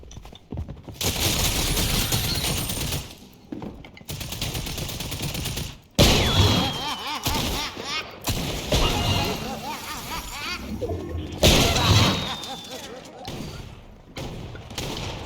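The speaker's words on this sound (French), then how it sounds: "ils sont en train de flinguer des gens avec le pistolet flingueur de Krusty" Rapid bursts of Krusty's gun firing in Fortnite, loud, dense volleys broken by brief pauses and heavy thuds, with someone talking over the shooting.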